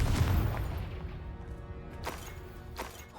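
A spell explosion in the Hogwarts Legacy video game bursts loud at the start, followed by rumbling game noise and two short sharp blasts later on.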